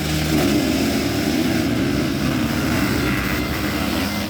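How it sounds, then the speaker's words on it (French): Sidecar racing engines roar together at the starting line, a dense, continuous loud rumble with no break and no speech. "les moteurs grondent"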